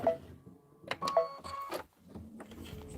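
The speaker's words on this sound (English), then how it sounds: "And now it's going to do the decorative stitching." Embroidery machine running a decorative stitching pass over vinyl in a hoop, producing bursts of rapid mechanical whirring and needle chatter with short pauses, close and moderately loud.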